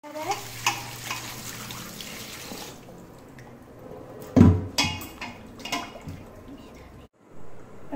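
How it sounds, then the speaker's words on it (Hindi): Running water splashes and pours as 1 kg of fish is washed, a steady gush at first, then quieter with a few louder splashes and handling knocks near the middle. "अब इसको धोने जा रहे हैं।"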